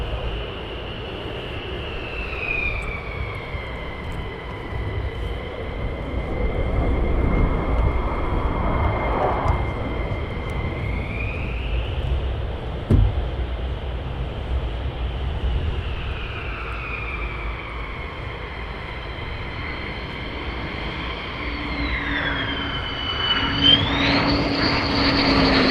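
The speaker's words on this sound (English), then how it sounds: "he's going to do a full stop landing" A fighter jet making a full-stop landing at RAF Lakenheath: a loud, droning jet engine roar with a shifting high whine that rises and falls as the aircraft passes, heard from a distance outdoors.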